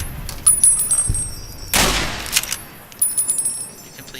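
Gunfire in the video game Fallout: New Vegas comes as a few sharp cracks and one heavier blast with a noisy burst, over a faint high electronic whine.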